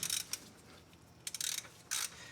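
A ratchet fitted with a 7/8 socket tightens a fitting on a hot rod's intake manifold, sounding as short bursts of rapid metallic clicks separated by pauses, close and crisp.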